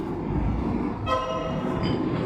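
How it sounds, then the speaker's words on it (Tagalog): Train passing by, a steady rumble with a horn-like tonal sounding for about a second midway, heard at moderate distance in an outdoor setting. "Train talaga."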